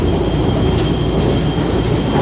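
Interior of an LRT light rail train in motion near Sentul Timur, heading toward Titiwangsa station: a steady, loud rumble of wheels and carriage running continuously throughout, with no talking.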